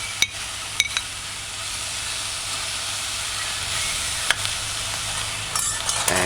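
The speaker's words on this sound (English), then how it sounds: "Lift and stir gently." Red cabbage with herb oil hisses and sizzles steadily in a saucepan on medium-low heat, broken by a few soft clicks of a utensil stirring, with no talking.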